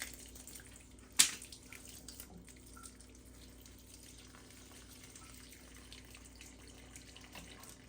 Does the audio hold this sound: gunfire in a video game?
no